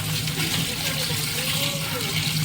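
Tap water runs steadily while raw chicken is rinsed in a kitchen sink, a continuous close splashing wash throughout, with a voice talking over it.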